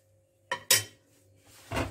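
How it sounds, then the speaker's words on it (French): A spatula knocks and scrapes against a bowl while chicken is mixed with mayonnaise, giving two quick clinks and then a softer scraping stir, close and quiet with no talk. "Je vais le mélanger avec ma spatule."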